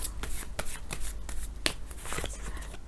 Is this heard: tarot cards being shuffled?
yes